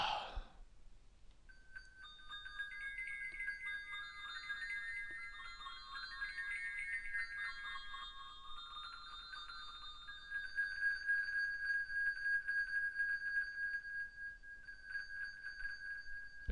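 A harsh, echoey electronic phone ring from a Valentine's-themed flash phone simulator game, ringing on and on for over ten seconds with warbling, sweeping tones and no voices.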